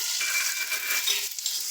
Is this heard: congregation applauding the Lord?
no